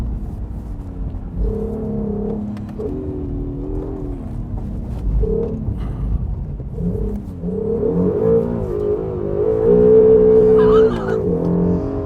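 A Honda NSX hybrid sports car engine revs and idles, rising in pitch through several throttle blips, with a steady tonal growl that swells louder toward the end.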